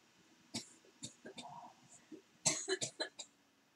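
A person at a Legacy card game league coughs in quiet, separate bursts, then in a quicker cluster of harsh coughs near the end, with low background noise between them.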